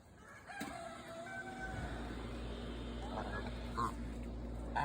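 Chickens on a small snowy farm settling in for the night, with a rooster crowing and hens clucking beneath steady background noise while people talk nearby.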